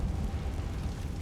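A Confringo blasting-spell explosion in the Hogwarts Legacy video game, heard as a loud, dense, rumbling blast that sustains for just over a second.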